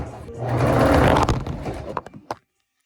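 A sewing machine stitching through a jeans waistband, running in a loud burst for about a second, then slowing into a few separate stitches before stopping.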